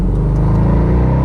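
A 2014 Bentley Continental GTC Mulliner convertible's engine revving from inside the cabin, a loud, steady, deep rumble throughout the short burst.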